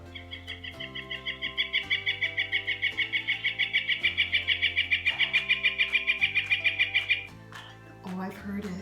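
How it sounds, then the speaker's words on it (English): A northern flicker, a woodpecker, calls with a long, rapid run of loud, evenly spaced, ringing notes that last several seconds over a low steady tone, followed by a few squawky calls. "helping me identify this bird as the northern flicker"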